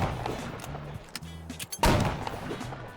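Several blunderbuss gunshots from the Rec Room video game, sharp booming blasts spread irregularly across a few seconds, the loudest a heavy report near the end, with faint background rumble between shots.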